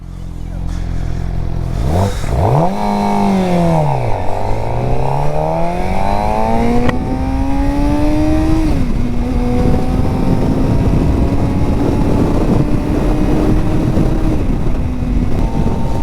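A 2023 Suzuki GSX-R600 sport motorcycle engine revs hard, its pitch climbing through quick gear shifts, then drones steadily at speed under heavy wind noise.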